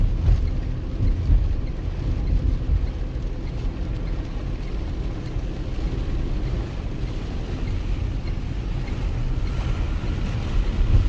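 Heavy rain roars steadily against a vehicle moving along a four-lane highway toward Junagadh, with deep road and engine rumble underneath; constant and dense, with no voices.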